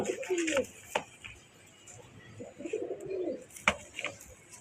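Budapest racing pigeons coo in soft, throaty bursts, several calls spaced across the moment with a few sharp clicks and faint background voices.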